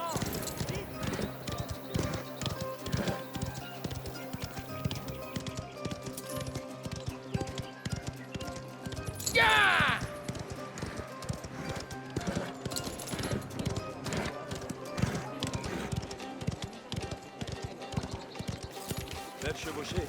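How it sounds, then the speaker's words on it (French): Hoofbeats of a horse galloping in the video game Mafia: The Old Country, a steady rapid clip-clop running throughout alongside game music and effects, with a brief whinny partway through. "Je te croyais rapide, mais tu sais vraiment foncer à cheval."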